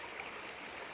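A big stream flows out of a lake along the Oregon Skyline Trail, giving a steady, even rush of water throughout.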